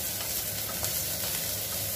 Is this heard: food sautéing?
yes